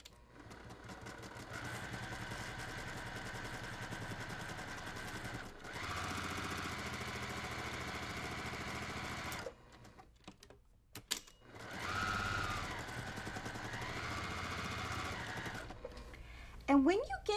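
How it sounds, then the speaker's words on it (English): A sewing machine stitches a quilt seam with a rapid, steady mechanical whir that runs in long stretches, pauses briefly, then resumes, heard close and fairly quiet. "So let's go to the sewing machine."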